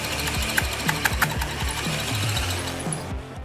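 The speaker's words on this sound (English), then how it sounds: "As expected, it's not drilling for shit. Some part of this is hardened." A power drill grinds and chatters against a hardened steel bracket on a Jeep YJ Dana 60 axle swap, a rapid stuttering rattle with sharp ticks as the bit struggles to cut, close and loud.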